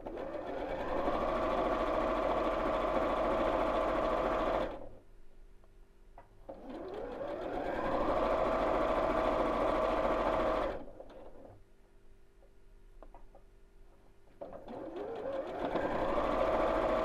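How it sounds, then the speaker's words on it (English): A sewing machine stitches fabric pieces right sides together in three runs of steady rapid whirring, close and clear, with short quiet pauses between runs. "we'll piece these back together and sew right sides together"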